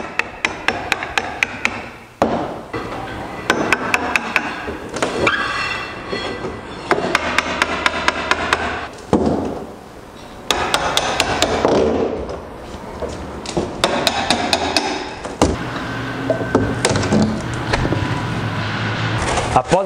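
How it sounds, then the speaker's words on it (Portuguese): Hammer and screwdriver prying the lid off a wooden crate holding a router machine: repeated sharp metallic taps and knocks in irregular bursts, with wood creaks and scraping between strikes, close and fairly loud. "Com o auxílio de um martelo e uma chave de fenda, você vai colocar aqui e para levantar os parafusos e os pregos"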